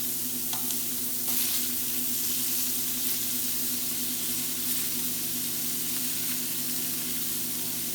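Scallops sear in butter in a hot pan, a soft steady sizzle with a faint stirring scrape now and then, fairly quiet and close with no talking.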